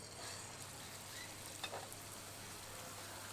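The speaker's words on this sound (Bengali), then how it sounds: "এবার তেলের মধ্যে দিয়ে দেব।" Battered betel leaf pakora frying in hot oil, a steady broadband sizzle throughout with a brief brighter crackle burst near the middle as the leaf goes in; no talking.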